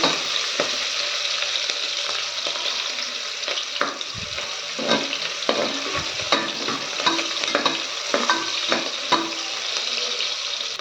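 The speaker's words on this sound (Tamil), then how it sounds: "வெங்காயம் பச்சை மிளகாய் இதில் சேர்த்துக்கோங்க வெங்காயம் நல்லா கொஞ்சம் ப்ரௌனாக கொஞ்சம் வதங்கட்டும்" Onions and green chillies fry in a pan for a Tamil beetroot biryani, with a steady sizzle and repeated stirring scrapes, close and continuous, and no talk over it.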